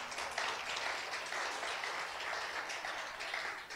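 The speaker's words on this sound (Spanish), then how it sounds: "Denle un aplauso, Abel." A church congregation applauding during a Pentecost service, steady clapping at a moderate distance that holds evenly for a few seconds.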